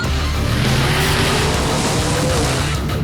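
Loud, roaring drag racing cars launch at Texas Motorplex, blasting continuously at close range, a dense wall of engine noise with no voices.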